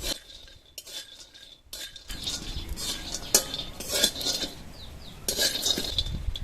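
Peanuts being dry-roasted in a hot wok, with clinking spoon scrapes and rattling nuts against the metal coming in irregular bursts over a low background hiss.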